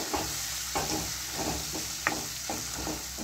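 Turmeric and chili powder fry in a pan for a khichuri while a spoon scrapes and stirs them in a regular rhythm, the strokes landing over a soft, constant sizzle.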